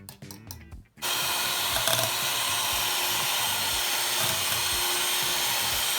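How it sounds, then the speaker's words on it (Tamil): An electric hand beater whirs steadily while beating sugar and melted butter for a cake, a loud even buzzing that starts abruptly after a moment of quieter sounds. "முதல்ல இந்த சர்க்கரையை இங்கே கொட்டிட்டு நம்ம நல்லா பீட் பண்ண போகிறோம்."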